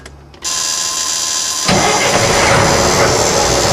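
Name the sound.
truck engine building up air pressure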